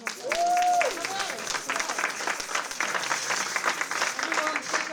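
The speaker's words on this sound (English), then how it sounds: "Let's give them all a huge round of applause." A synagogue congregation at a Purim service and shpiel applauds the participants and band, a full crowd clapping continuously with cheers and whoops rising over it and voices mixed in throughout.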